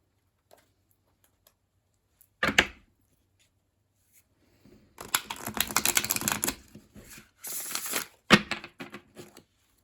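Tarot cards are shuffled in short, crisp riffling bursts with quiet pauses in between, close and clear, with no talking.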